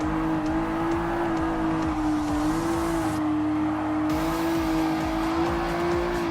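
A Nissan GT-R race car in GT Academy trim, in Gran Turismo Sport, holds a steady, loud engine drone under sustained throttle for the whole stretch, with brief shifts in tone and no talking.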